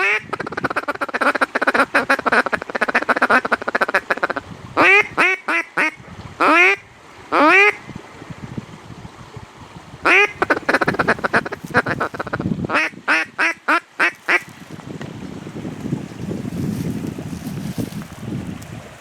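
Mallards and other ducks quack loudly in repeated bursts and runs close by, with gusty wind noise on the microphone between calls and a breezy rush near the end.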